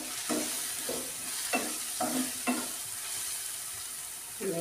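A spoon stirs tomato fry with turmeric in a pan: a soft continuous sizzle broken by several separate scraping strokes at an uneven pace, moderately close and with no talking.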